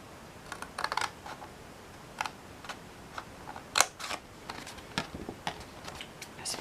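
Cutting fold lines and glue tabs into a foil-covered chocolate box, a series of close, crisp snips and taps at an irregular pace, with no talking.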